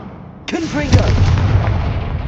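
Confringo spell blast in the video game Hogwarts Legacy, a sudden booming explosion with a crackling, rumbling tail that fades slowly, loud and close.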